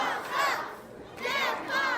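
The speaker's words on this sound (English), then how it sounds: "Listen to this crowd." A packed crowd at a professional wrestling show in West Virginia roars in two loud surging waves of shouting and cheering, close and filling the room.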